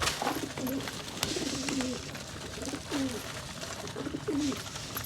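Wild pigeons coo in repeated low, throaty phrases, several soft calls spaced across a few seconds, heard at moderate distance over steady outdoor background noise.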